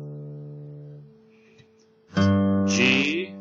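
A guitar string tuned down to D is plucked, its low note fading over about a second, followed by a louder, brighter strum ringing out close by.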